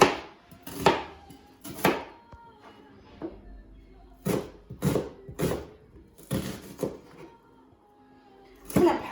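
An onion is chopped finely with a knife on a board, close and loud, in uneven bursts of quick sharp chops separated by short pauses.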